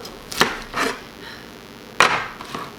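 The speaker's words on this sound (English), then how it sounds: "you have to cut the top off" A knife cuts the top off a pineapple, giving three short, close crunching chops, two in quick succession and a sharper one after a pause, with quiet background otherwise.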